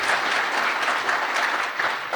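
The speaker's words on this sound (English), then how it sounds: "So give yourself a round of applause." Dense, steady audience applause at a technical talk, a full room clapping continuously and close for the whole stretch with no voices over it.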